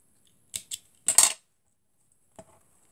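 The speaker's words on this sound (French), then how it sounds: "Je vais couper derrière et laisser les fils pendre." Small scissors snipping craft threads behind a scented fofucha doll, several short metallic snips close by in two quick pairs, then a cluster, then one faint final snip, with no speech.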